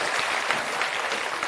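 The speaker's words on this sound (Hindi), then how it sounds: "एक बार जोरदार ताली बजाइए आदरणीय प्रसाद जी" An audience at a public gathering breaks into steady, vigorous applause, a dense wash of many hands clapping together throughout, fairly close and continuous.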